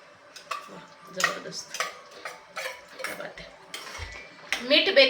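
A spoon scrapes and clinks against a pan while paneer curry is stirred and mixed in a home kitchen, with irregular close metallic taps and scrapes and faint sizzling between them.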